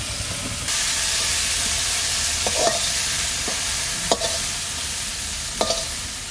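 Vegetables for Bengali khichuri fry in hot oil, giving a loud, steady sizzle and hiss with a few sharp scrapes of a spatula stirring the pan.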